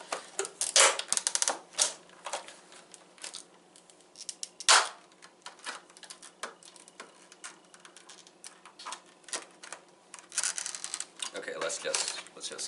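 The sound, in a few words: removing plastic packaging pieces from Zelda amiibo box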